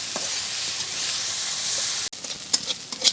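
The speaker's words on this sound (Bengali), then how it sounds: "রসুন আর পেঁয়াজটা একসাথে ভেজে নিচ্ছি।" Garlic and onion fry together in a pan with a loud, continuous sizzle and hiss, broken by a brief clatter of stirring near the end.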